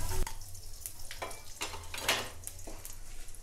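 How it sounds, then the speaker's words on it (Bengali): Nigella seeds, dried chilli and bay leaf hit hot oil, crackling in uneven spiky bursts over a faint background hiss, close up and without speech. "এবার আমি ফোড়নটা তেলে দিয়ে দেব কালো জিরে,"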